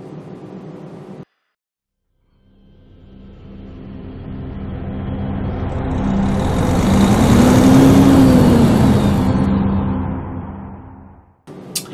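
A Volvo truck engine in the Euro Truck Simulator 2 video game rises from silence into a steady, loud drone, swelling in pitch and volume toward the middle, then fading before cutting off abruptly.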